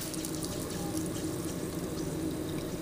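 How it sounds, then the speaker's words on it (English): Steady running water from a tap rinsing lab equipment, a continuous close hiss and splash at low level with no pauses. "I'm going to wash this one off."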